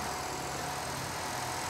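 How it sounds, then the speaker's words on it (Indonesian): A 2009 Nissan Grand Livina with a 1500cc four-cylinder engine and automatic transmission idles steadily, a continuous smooth engine hum with broad hiss and no talking. "Dan ini suara mesinnya"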